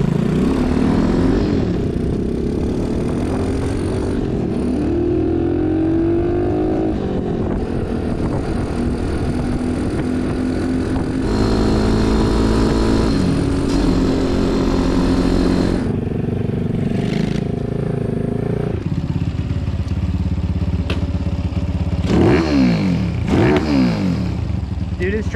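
A 190cc Honda Trail 70 (CT70) restomod with 19 hp rides past with a loud, buzzing engine drone whose pitch rises and falls as it revs and shifts, with voices talking over it.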